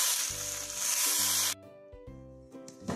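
Water poured onto a hot dosa griddle (tawa) gives a loud, steady sizzle for about a second and a half, then stops abruptly, leaving quieter background tones.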